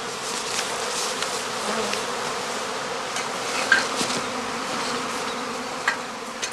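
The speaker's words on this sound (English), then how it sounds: "swarming bees soon form a new cluster again" Swarming honey bees at a heathland apiary in northern Lower Saxony form a dense, continuous buzzing drone that stays fairly loud and even throughout, with occasional nearer bees passing close.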